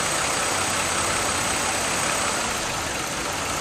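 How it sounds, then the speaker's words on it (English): A car engine idles with a misfire in cylinder number 2, giving a steady, close, hissing drone that holds at an even level for a few seconds with no voices. "Now we got a misfire"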